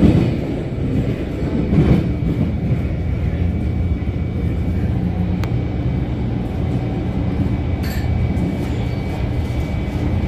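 A MARTA Red Line subway train rumbles along southbound toward Airport Station, a loud, continuous roar of wheels and car noise heard from inside the car, with faint clicks and squeals over the steady din.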